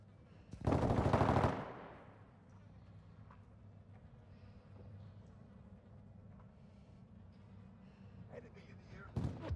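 Rapid gunfire in Call of Duty Modern Warfare II team deathmatch, a fast loud burst of shots lasting about a second, then quieter game ambience with another short burst at the end, speech nearby.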